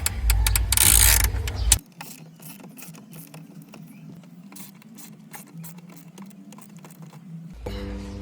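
Small hand tool clicking and creaking as screws are worked loose from a BMW X1 dashboard, with a burst of louder handling noise at the start and sparse close ticks and scrapes in a quiet interior.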